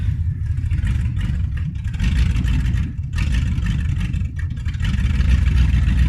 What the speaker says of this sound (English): There's no exhaust on it, so it's a little loud.